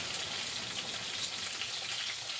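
Salmon patties fry in an iron skillet, giving a steady, even sizzle and hiss that runs unbroken throughout with no talking.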